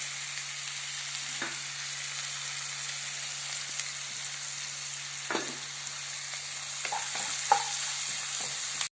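Food sizzles steadily in a pan with salt added. A few scrapes of a spoon stirring break through the even frying hiss, and there is a faint low hum in the background.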